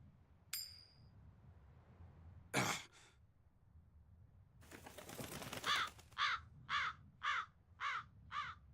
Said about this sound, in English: That crow just flew off with the coin.